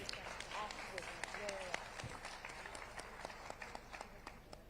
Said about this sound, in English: Let's give Pico Iyer a really warm round of applause.